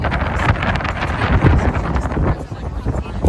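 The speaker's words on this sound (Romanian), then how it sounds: "Pentru că este în continuare vânt aici în Paros" Steady wind rushes across a microphone on the coast of Paros island in Greece, a continuous loud blustery roar with someone speaking over it throughout.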